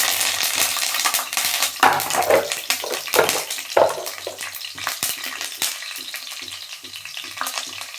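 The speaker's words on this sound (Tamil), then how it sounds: "அதனால் இதெல்லாம் போடலாமே போட்டு கருவேப்பிலை போட்டுக்கலாம்" Curry leaves hit hot oil in a pan for chicken thokku, crackling and spitting loudly, with a few clattering bursts from stirring early on before the sizzle settles down, no voices.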